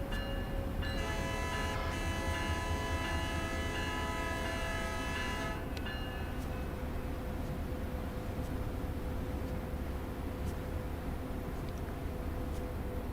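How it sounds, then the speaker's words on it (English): Squealing noise like a loose belt in the Train Sim World video game, a sustained high whine with shifting tones for several seconds over steady rail rumble, then fading out, leaving the train's running noise alone. "Sounds like something running off a belt and the belt is loose and it squeals."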